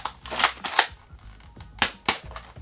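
Thrifted Nerf Rough Cut toy blaster in rough condition firing, a burst of sharp plastic clicks and snaps, several quick close cracks in an uneven cluster with short gaps between.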